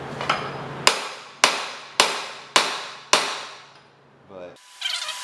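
A hammer striking a socket set on a crowbar, five sharp metallic blows at a steady rhythm, each ringing out briefly before a short clatter and a scraping rustle close by.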